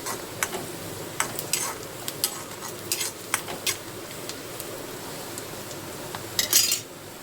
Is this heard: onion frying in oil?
yes